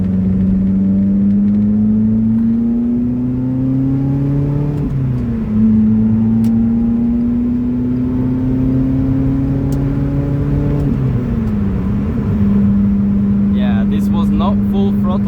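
A loud Lotus Elise engine pulling hard inside a tunnel, rising in pitch through two long accelerations with a brief dip at a gear change, its echoing roar close and dominant.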